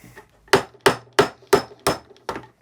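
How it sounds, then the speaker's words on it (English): A hammer strikes the bottom nut on the pump of a Graco 390 airless paint sprayer, giving six sharp, evenly spaced metallic blows that ring briefly and are heard close up with no talking. "We'll try the hammer."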